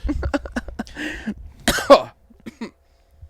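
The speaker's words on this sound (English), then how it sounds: "just coughed up blood" A man coughs hard in a rapid burst of harsh, chesty hacks, then a few rougher throat-heavy coughs, loud and close, trailing into quieter breaths.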